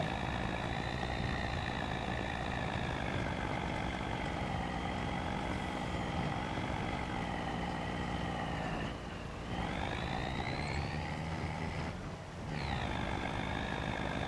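A small farm truck drives in Farming Simulator 25, its engine droning steadily and loudly throughout, with a harmonic whine that rises and dips briefly twice near the end as it shifts or bumps through a hedge; no talking.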